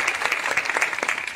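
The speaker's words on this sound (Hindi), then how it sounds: "जोरदार ताली बजाते इनका स्वागत करिए" Audience at a political rally in Uttar Pradesh bursts into dense, steady clapping, loud and close, sustained throughout without a break.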